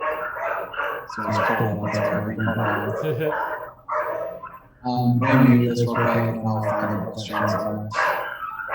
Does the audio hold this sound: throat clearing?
no